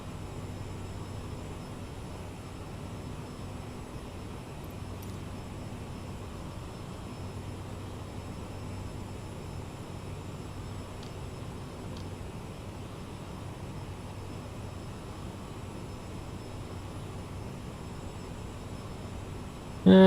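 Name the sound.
Aerosoft CRJ 900 jet engines in flight simulator video game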